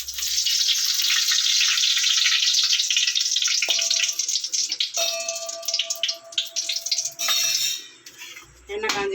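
Two spoons of oil heat in a kadai with a soft, steady sizzling hiss, followed by a few light metallic clinks of the pan and utensils.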